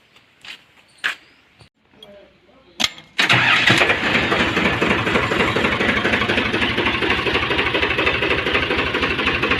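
A tractor with a tine cultivator attached comes to life on a farm: a few sharp clunks and cranking bursts, then the diesel catches with a loud jolt and settles into a steady, close, rattling idle for the rest.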